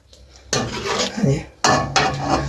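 Chicken karahi cooked with coal smoke is scooped from a metal pot into a serving dish, with two bursts of scraping and clinking of a spoon against metal separated by a brief pause.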